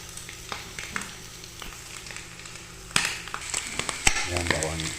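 Garlic and ginger frying in hot oil in a pan, a steady low sizzle with occasional louder crackles and stirring clatters near the end.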